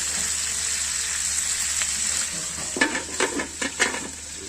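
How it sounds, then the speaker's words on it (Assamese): Chicken legs fry in hot oil in a home kitchen, sizzling steadily while a burst of louder crackles and popping spatters comes near the end; no voices. "একদম তেলবিলাকে ফটফটা ফুটি আছে"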